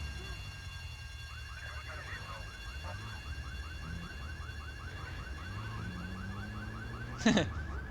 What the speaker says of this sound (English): I love how the alarm of that car is actually going off.